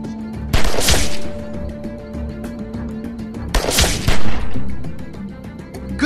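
Gunfire in The Walking Dead 400 Days video game: two sharp, loud bursts of shots about three seconds apart, each with a short rattling tail over a low droning background.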